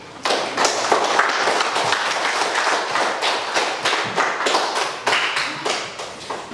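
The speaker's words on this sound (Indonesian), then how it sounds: "Ayo kita tepuk tangan dulu." A classroom of students claps together in a quick rhythmic pattern, loud and near, bursts of claps repeating for several seconds with no talking.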